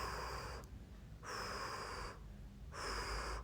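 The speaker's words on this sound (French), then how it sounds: "Et expire, expire, expire" Three deep exhaling breaths come close and clear at an even pace, each a breathy rush lasting under a second, with quiet gaps between them.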